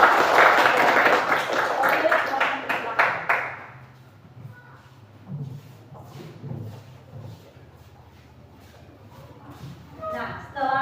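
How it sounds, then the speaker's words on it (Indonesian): Short burst of classroom clapping for a student group, loud and brisk for a few seconds, then stopping, followed by quiet room sounds and a teacher speaking. "Beri tepuk tangan buat."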